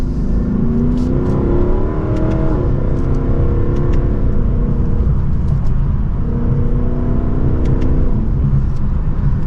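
2024 Lexus LC500 accelerating hard from second gear, a loud close engine roar climbing in pitch with a brief dip at a shift, then pulling on steadily throughout.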